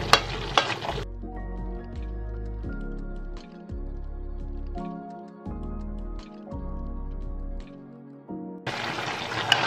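Liver, soaked in vinegar and crushed pepper and rinsed, sizzles loudly in a hot pan at the start and again at the end, with a stretch of steady musical tones in between.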